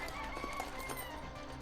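A chicken clucks in the video game Arc Raiders, brief and faint beneath a steady wash of game ambience.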